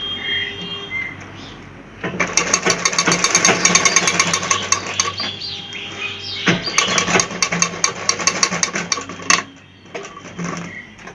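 A sewing machine hums and chatters rapidly while stitching a lehenga, running nearly continuously from about two seconds in to the end, loud and close with a brief slowdown midway.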